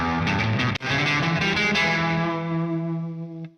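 A fuzz machine distortion preset drones as a sustained, buzzy distorted tone with a brief break near the start, then holds steady and cuts off abruptly at the end.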